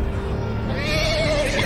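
A horse neighs in the Game of Thrones Telltale video game, a drawn-out whinny rising over a dense, rumbling background of hooves and ambience, with no voices during it.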